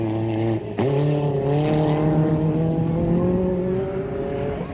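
A 1988 Paris-Dakar Rally car accelerates hard through a dust storm, engine note rising steadily after a brief gear-change dip, loud and close with rising harmonics and no talk.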